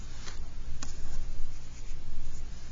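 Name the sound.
writing on and handling a fresh sheet of paper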